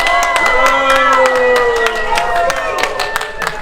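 Crowd clapping and cheering at a street demonstration in Dijon, the applause scattered and close, with voices and shouts over it.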